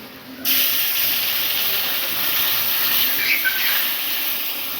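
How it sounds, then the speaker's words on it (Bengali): Milk goes into a hot pan for a spiced saffron-coloured dish, giving a sudden burst of steady, hissing sizzle that starts abruptly and holds fairly loud and even to the end, with no talking. "এবার আমরা দুধটা দিয়ে দিচ্ছি"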